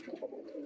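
Pigeons in a loft give a soft, brief, low cooing that stays faint and close throughout.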